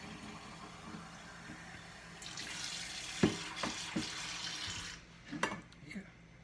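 About 250 ml of water runs steadily from a tap into a pressure cooker, with a few soft clunks of handling near the end.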